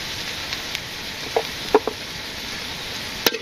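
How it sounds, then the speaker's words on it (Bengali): Soft sizzle of spice masala with turmeric, chili and coriander powder frying in a pan with potatoes, a low steady hiss broken by a few light stirring clinks, no voices. "মশলাটা একটু ভাজি হোক।"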